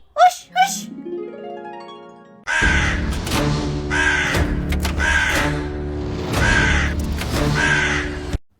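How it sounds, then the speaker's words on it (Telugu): A crow caws repeatedly in a house setting, a few short harsh calls at first, then a rapid series of loud, close caws in a steady rhythm with no talk over them. "ఆ కాకి కావు కావమంటుంది"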